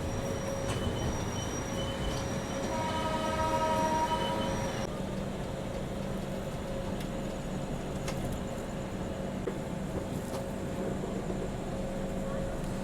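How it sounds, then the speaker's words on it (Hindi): The Sealdah–New Delhi Rajdhani Express running at night after leaving Pandit Deen Dayal Upadhyaya Junction: a steady rumble and rattle of rail cars with faint wheel squeal, continuous throughout, with a brief tonal squeal early on. "1:20 में हमारी ट्रेन निकल चुकी है Pandit Deendayal Upadhyay junction railway station से।"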